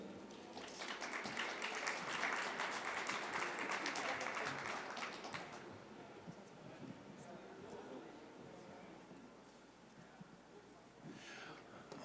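An audience applauds to welcome speakers onto the stage at a lunch-and-learn event, a dense wash of clapping that swells for several seconds and then fades into quieter room noise.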